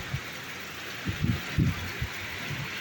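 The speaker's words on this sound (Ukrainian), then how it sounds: "Дощ треба був, але щось він трішки не неспокійний." Light rain falls in a yard at night, a faint, continuous hiss with a few soft low thumps scattered through it.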